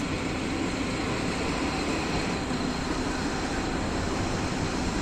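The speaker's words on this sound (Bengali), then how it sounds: "আর পাশের একটা এক্সপ্রেস ট্রেন রয়েছে" An express train rumbles past on an adjacent track, a continuous loud roar of wheels and carriages with no pauses and no voices.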